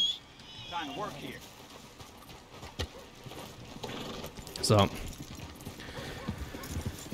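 Steady horse hooves clip-clopping throughout in Red Dead Redemption 2, with a horse whinny midway and a voice speaking briefly over the game ambience.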